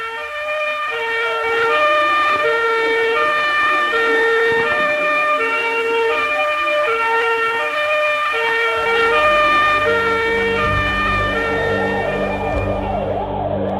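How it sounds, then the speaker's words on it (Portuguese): A fire engine's siren wails steadily and loudly as the firefighters' truck arrives at a burning building, with a low rumble of the vehicle entering in the latter half. "A chegada do carro dos bombeiros"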